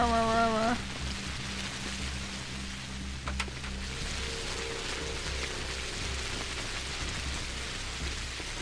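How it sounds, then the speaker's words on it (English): Steady rain falling in the video game Pathologic, a continuous soft patter on surfaces, preceded by a brief tonal game sound and a faint low hum throughout. "enjoy the soothing sounds of the rain"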